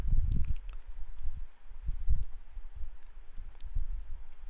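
Typing a terminal command on a computer keyboard: a few soft, close keystroke clicks and dull thumps in short bursts over a faint background hiss, with no talking.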